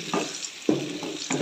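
A tadka of oil sizzles steadily in a pan with a few soft stirring scrapes, recurring in short bursts close by.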